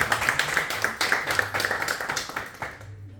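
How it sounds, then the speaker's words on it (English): A small group claps at the close of a live podcast, with distinct individual claps in a quick uneven rhythm. A voice briefly speaks over it before the clapping cuts off. "Applause."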